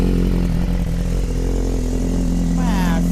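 A superbike engine, with an aftermarket steering damper fitted, runs steadily at idle with a deep low rumble throughout, while someone speaks over it.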